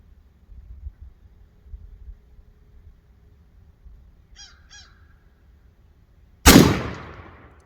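A single loud blast from the lower barrel of a Sulun SS211 turkey shotgun fires near the end, sharp and close with a trailing decay, after a quiet outdoor stretch with a couple of distant crow caws.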